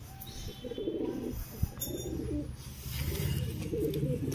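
A pigeon coos softly and repeatedly up close, with a sharp tap and some rustling handling noise.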